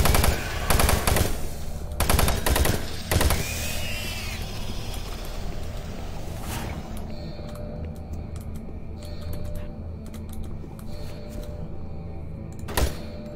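Gunfire from the Doom 3 game: several loud, rapid bursts of shots ring out in the first few seconds, followed by a quieter hum of ambient machinery and one more sharp shot near the end.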